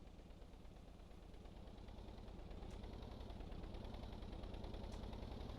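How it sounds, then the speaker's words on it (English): A truck engine in the Stormworks game labours in 10th gear with too little torque, nearly stalling under the truck's weight; a steady, low, rumbling drone runs throughout with no talk. "listen to the engine when I try to take off in 10th gear"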